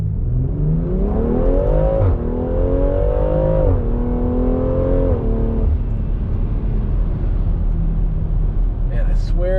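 From inside the cabin, the engine of a 2020 BMW X3 M Competition in manual mode revs hard through rising pitches with a distinct shift around the middle, loud and continuous with a steady road roar beneath.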